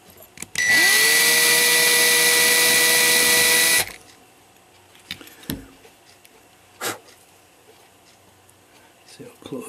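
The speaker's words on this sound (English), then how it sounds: "going to grind that down" A part from a cuckoo clock is ground down on a small bench grinder, a loud steady whine lasting about three seconds that cuts off abruptly, followed by quiet workshop knocks and handling noises.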